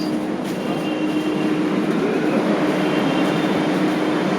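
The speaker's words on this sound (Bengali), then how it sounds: "তো আমি এখন মেট্রোতেই আছি।" Inside a moving metro train, a constant loud rumble of wheels and carriage runs throughout, with a steady tonal hum and faint rattles and no talking.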